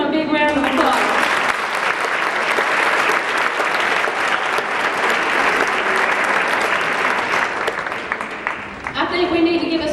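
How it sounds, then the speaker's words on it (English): An audience at an elementary school choir's dinner theater breaks into a loud, sustained round of applause that fills the room, with brief speech at the start and end. "All of these people, let's give them a big round of applause."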